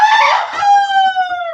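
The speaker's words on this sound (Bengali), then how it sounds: "আর এদিকে কিছু মোরগ ডাকতেছে" One loud, close rooster crow rings out at a farmyard, a single drawn-out call that tails off smoothly with nothing else behind it.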